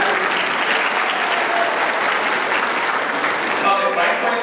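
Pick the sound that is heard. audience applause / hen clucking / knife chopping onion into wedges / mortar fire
audience applause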